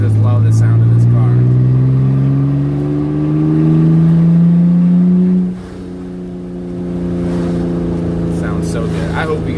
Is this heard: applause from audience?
no